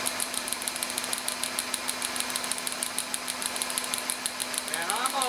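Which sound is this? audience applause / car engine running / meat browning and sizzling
car engine running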